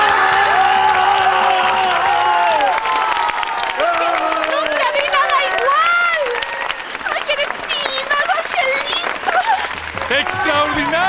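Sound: audience applause

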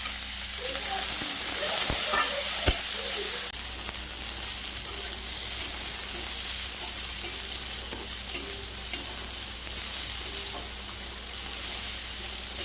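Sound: frying green banana in pan

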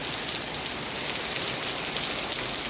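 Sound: rain

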